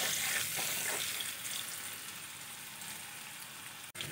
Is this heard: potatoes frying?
yes